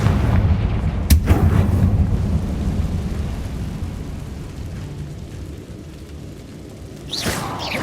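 A Confringo fire spell cast in Hogwarts Legacy gives a sharp, heavy explosive blast at the start and a loud rumble that slowly fades. Another quick burst comes near the end, with no talking.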